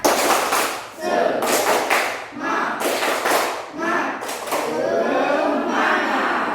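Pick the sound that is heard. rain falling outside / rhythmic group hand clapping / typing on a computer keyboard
rhythmic group hand clapping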